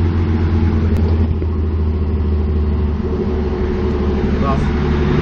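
A nitrous-fed BMW M52B30 car engine runs at full throttle, producing a loud, sustained, close-up roar, while voices talk over it.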